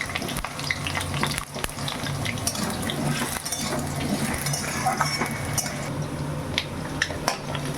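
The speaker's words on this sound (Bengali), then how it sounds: "প্রথমে এখন আমি আলুটাকে ভেজে নিই।" Steady sizzling of potatoes frying in hot oil, with occasional clinks of a utensil against the pan and no talking.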